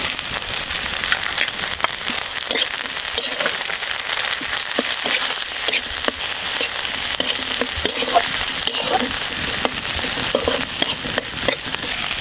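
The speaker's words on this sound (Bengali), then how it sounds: "পেঁয়াজ রসুনটা ভাজা ভাজা হয়ে গেছে, এখন আমি এই যে কেটে ধুয়ে রাখা মাছটা দিয়ে দেবো।" Fish sizzling in hot oil over browned onion and garlic, a loud, dense, continuous crackle like rain on a surface, with stirring knocks throughout and no talk.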